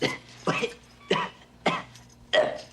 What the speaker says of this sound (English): I guess I just had to clear my throat.